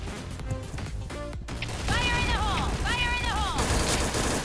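Steady, rapid SIG-Sauer MCX rifle fire rattles on and on in the shooter game Point Blank, dense and loud, with a voice talking over the shots.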